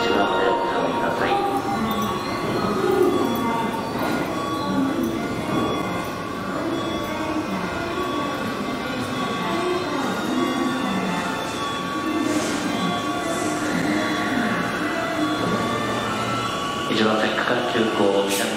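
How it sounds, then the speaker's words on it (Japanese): A Tobu 10000 series train pulls into a platform at Kita-Senju station, with a low rolling rumble and faint wheel noise running steadily under station announcements and ambient platform hum. "1番線、2番線、電車の到着です。"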